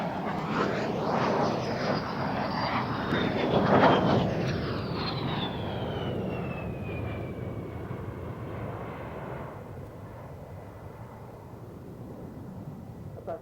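A jet aircraft passes overhead at the RAF Waddington airshow, a loud roaring rush that builds to a peak with a falling whine, then recedes into a fading rumble.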